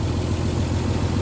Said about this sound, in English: you can hear the engine's just perfect